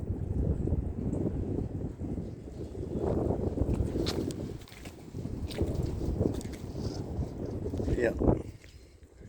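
Gusty wind on a cold day outdoors buffets the microphone in low rumbling bursts, rising and falling, with a brief spoken word and faint movement sounds.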